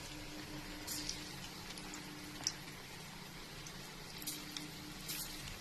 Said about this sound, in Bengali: এই যে গরম গরম তেল, চিকেন পকোড়া হচ্ছে